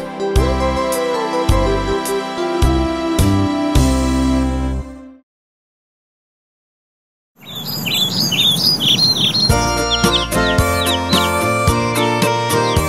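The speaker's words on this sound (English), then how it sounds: "Look at those two Dickie birds. Aren't they cute?" Cartoon dicky birds in a nursery rhyme chirp and tweet in quick repeated bursts over bright, bouncy music, with a short silent gap in the middle before the music and chirps return.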